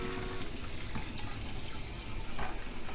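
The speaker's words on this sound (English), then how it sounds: "we take the starch out a little bit, and we put right over here with the cold water" Cold tap water runs over drained pasta in a colander in a kitchen sink, a loud, continuous splashing rush close by with shifting gurgles and spatters.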